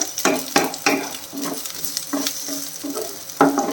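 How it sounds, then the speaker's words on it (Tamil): Shallots sautéing in oil in a pan, a soft sizzle broken by repeated spatula scrapes and taps in an uneven rhythm, close up and without speech. "இன்னும் கொஞ்சம் கூட நம்ம வெங்காயத்தை வதக்கிடலாம்"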